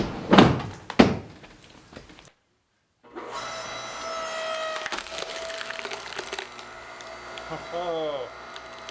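A BILT HARD 6.5 ton electric log splitter splits wood, with sharp cracking and splintering bursts up front, a brief silence, then a steady electric motor hum and ram whine under creaking wood.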